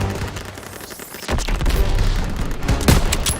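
Dense gunfire and explosions in the World War II shooter game Call of Duty: WWII, a loud continuous barrage of overlapping shots and booms building to heavier bursts near the end.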